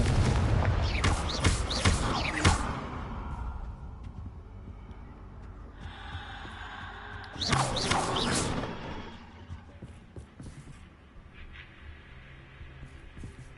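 Repeated Confringo fire-spell blasts in the game Hogwarts Legacy on PS5: a dense burst of loud booming explosions at the start, a quieter stretch, then a second heavy cluster of blasts, with no talk.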